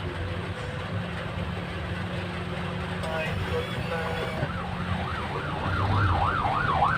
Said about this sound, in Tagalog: Lahat na sana ng sasakyan may wangwang para lahat priority.